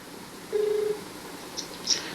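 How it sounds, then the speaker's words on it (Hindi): A telephone call is being placed: a faint, brief steady tone is heard over quiet background hiss, followed by a couple of short, soft electronic blips. "देखिए, ज्योति मौर्य का हमने कॉल लगाया है।"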